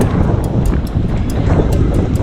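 Strong, gusty wind at Hundred Islands, Alaminos, Pangasinan, roars continuously and loudly, buffeting the microphone with rumbling low-end noise throughout.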